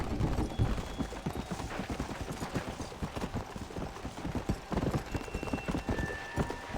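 Horse hooves clip-clop in Red Dead Redemption, a fast, steady run of close hoofbeats over a faint game ambience with no talking.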